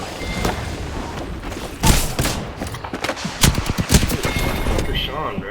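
Gunfire in a fast-paced shooter video game, with several loud bursts and rapid shots clustered in the second half over a busy background, while a player talks.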